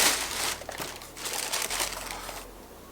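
Special wrapping paper being pulled out of an Under Armour shoe box, a close run of crisp crinkling and rustling bursts over a few seconds.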